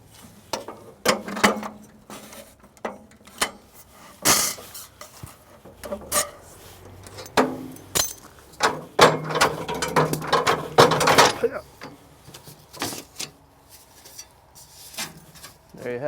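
Sheet metal flashing is bent on a brake in repeated bursts: sharp metallic clanks and ratcheting clatters, close and fairly loud, with brief creaks and rustles between strokes and no speech.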